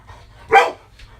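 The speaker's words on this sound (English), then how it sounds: "We apologize for the excessive dog barking." A dog in a home studio gives one sharp, close bark, with faint quieter yips before and after it in an otherwise quiet room.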